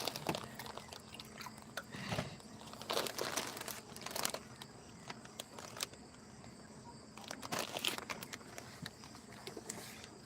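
A packet of chivda snack crinkles in quiet, scattered bursts of crackly rustling, with soft handling noises and pauses between.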